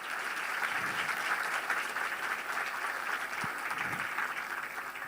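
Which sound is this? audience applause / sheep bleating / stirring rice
audience applause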